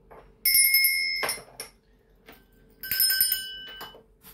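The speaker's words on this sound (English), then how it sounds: "I'm going to ring the bells that I have, that is just to cleanse the space around us." Small bells are rung twice in a quiet room to cleanse the space, each bright metallic ring starting sharply and shimmering away before the next, with soft handling noises between.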